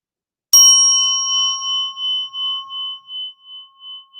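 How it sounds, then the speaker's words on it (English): A meditation bell struck once, a clear bright strike whose pure ringing tone lingers and slowly fades with a gentle wavering pulse over several seconds, alone in silence. "when you hear me striking the bell, you might as well close your eyes"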